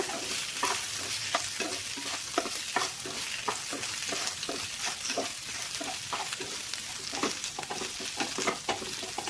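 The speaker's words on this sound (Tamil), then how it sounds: "இப்போ எண்ணெயிலே 1 நிமிஷத்துக்கு வந்து வெண்டைக்காய் வந்து வதக்கிக்கோங்க" Okra (lady's finger) stir-fried in hot oil for a poriyal, a steady loud sizzle broken by regular scraping strokes of a spatula against the pan, close up with no talking.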